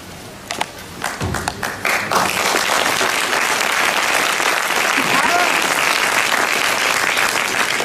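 An audience breaks into applause, starting with a few scattered claps that quickly build into sustained, dense clapping from a full room.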